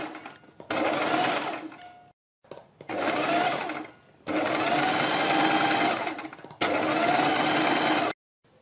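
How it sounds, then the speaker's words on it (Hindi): Sewing machine stitching a kurti neck facing onto buckram, running in four steady motorized bursts separated by short pauses, close and clear with no talking. "बीच में सिलाई लगाएंगे"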